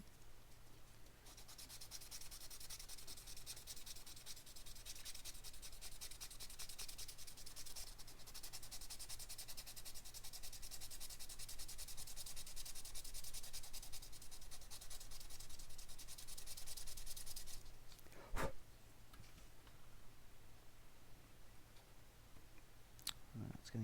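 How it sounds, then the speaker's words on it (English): Steady abrasive rubbing of sandpaper flattening a 3D-printed part for an RC10GX89 replica RC car, continuous and close for most of the stretch, then stopping, followed by a few small clicks and handling taps. "To sand it flat."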